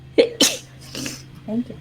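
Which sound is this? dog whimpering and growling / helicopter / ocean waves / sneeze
sneeze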